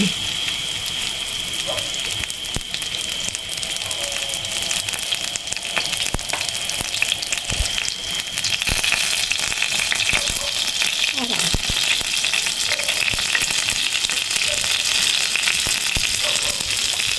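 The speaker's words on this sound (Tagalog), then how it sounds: "Atin pong niluluto ay ukoy na hipon." Shrimp okoy fritters fry in hot oil with a steady, even sizzle that holds at a constant level throughout, broken by occasional small clicks and pops.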